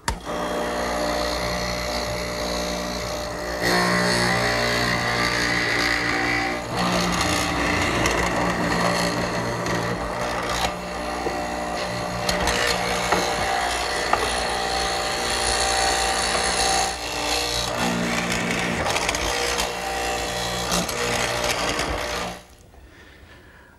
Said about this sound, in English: The bit will remove most of the material, and the chisel will square it up.